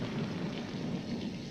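Steady heavy jungle rain pours down with thunder rumbling beneath it, a dense continuous wash of drops with no voices, loud and close throughout the short stretch.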